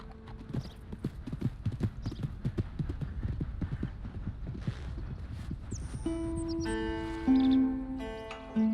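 Horse hooves clip-clop steadily in the Western video game Red Dead Redemption, a rapid rhythmic trot up close that slows and fades as sustained tonal music and hum take over near the end.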